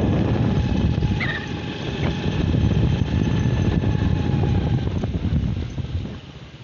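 A motorcycle engine drones steadily while riding on a road near a residential colony, mixed with strong wind rumble against the microphone, loud and continuous before easing slightly at the end.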